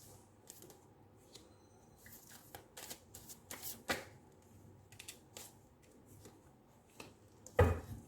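Tarot cards shuffled by hand in a quiet room, a run of soft riffling bursts and flutters with short pauses between them, ending in a sharper tap as the deck is squared.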